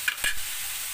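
Sautéed bitter gourd (ampalaya) with tomato stirred in a hot pan, a couple of quick utensil scrapes over a constant soft sizzle, brief and close.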